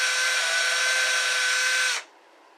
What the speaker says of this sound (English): Make sure your drill is actually in high speed, and you got a really sharp bit and you're straight.